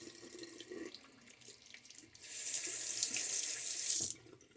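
Water runs from a bathroom tap into a sink as a face is rinsed after a wet shave, a steady close hiss that starts partway through and cuts off near the end, with light splashing before it.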